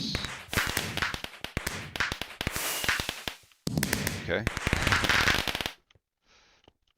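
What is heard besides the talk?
loud fireworks in video game Minecraft GregTech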